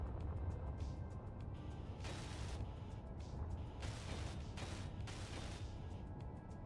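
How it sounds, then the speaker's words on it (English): A welding tool works on steel in the modded survival game Space Engineers, producing dense, rapid crackling bursts that swell and fade in several long surges over a constant low game rumble. "let's weld this up."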